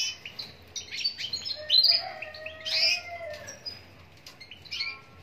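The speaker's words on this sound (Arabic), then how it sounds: "هذا ذكر حسون" A male goldfinch chirps and twitters in quick, bright bursts, with scattered tweets and short trills close by over a faint background hum.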